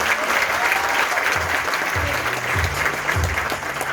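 Applause from an audience at a live Vestige business event, a broad steady wash of clapping with occasional low thumps, running continuously throughout.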